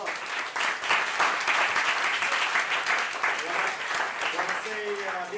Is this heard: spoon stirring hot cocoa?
no